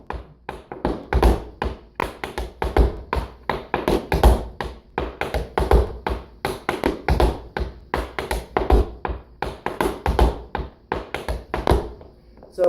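Tap shoes beat out a buck time step at a faster speed, with crisp, rapid taps in a repeating syncopated rhythm, close and clear, and no talk over them.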